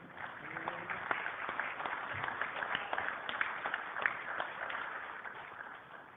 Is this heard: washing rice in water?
no